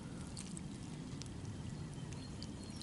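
Water poured through a homemade bushcraft sand filter for a second pass, a faint, steady trickle and splash running continuously without pause, with no voices.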